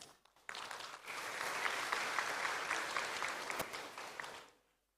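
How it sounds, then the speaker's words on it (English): Applause from a conference audience welcoming a Saman dance performance, a dense steady wash of many hands clapping that begins abruptly, holds for about four seconds and fades out. "Please give a round of applause for Saman Dance."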